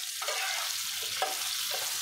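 Taro pieces and hilsa fish sizzle loudly in hot oil in a pan, a continuous crackle with about three scraping stirring strokes sweeping through it.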